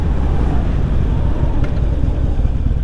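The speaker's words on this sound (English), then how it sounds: "this wind's pretty crazy" Strong, loud wind buffeting the microphone while riding a Harley Sportster motorcycle, a constant low roaring rumble with no pauses.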